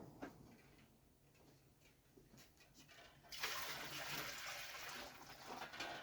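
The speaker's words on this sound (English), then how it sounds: "I dumped most of the hot water out." Hot water is poured out of a cooking pot in a home kitchen. After a few quiet seconds a steady, hissing rush of water starts suddenly and runs on close by.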